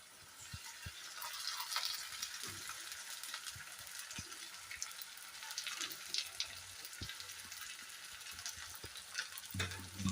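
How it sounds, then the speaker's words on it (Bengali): A paste of ginger, cumin, dried and green chillies added to onions frying in a pan for a Bengali mutton curry, giving a soft continuous sizzle with scattered stirring clicks and knocks, fairly quiet. "এখানে আমি আদা, জিরে, শুকনো লঙ্কা, কাঁচা লঙ্কা পেস্ট করে রেখেছিলাম, সেই মশলাটা দিয়ে দেবো"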